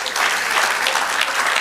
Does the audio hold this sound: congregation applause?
yes